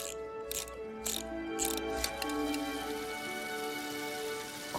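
A spring-wound mechanical device imitating rain on a tin roof gives a steady, dense patter with faint ratcheting clicks, continuous and fairly close throughout, with no talk over it.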